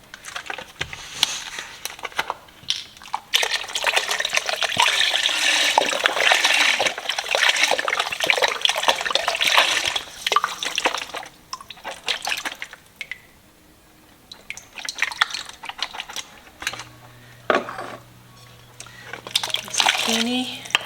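Eight cups of beef stock poured from two containers into a soup pot: a loud, continuous gushing splash that runs for several seconds, tapers into trickles, then resumes briefly, up close.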